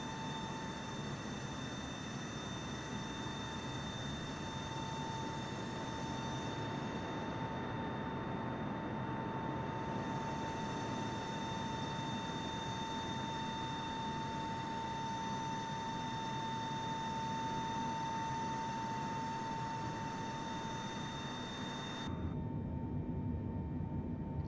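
An airplane cruises in Microsoft Flight Simulator 2024 on PS5 Pro, with a steady, even engine drone and a constant tonal hum. The sound holds unchanged for most of the stretch, then changes abruptly near the end.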